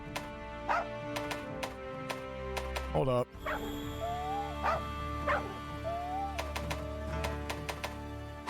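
A human voice imitates a dog, giving a string of short barks and yips with whimpering rises, while the same speaker also talks.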